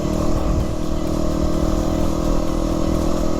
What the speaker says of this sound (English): First time I've ridden a motorbike on a beach.